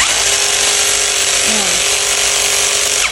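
A power drill fitted with an impact drill bit runs continuously and loudly throughout, a dense buzzing whine with a brief dip in pitch midway as the speed changes.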